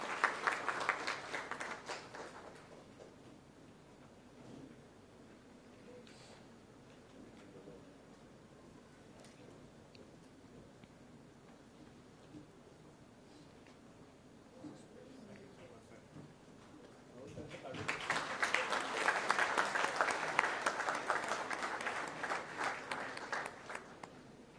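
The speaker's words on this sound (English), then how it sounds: "Keep applauding for our sparkling stars of the evening for their groundbreaking innovations" Audience applauding the winners at an awards event, KPIT Sparkle 2022: a burst of clapping opens, fades into quieter room noise, then a loud, dense wave of applause swells again and carries to the end.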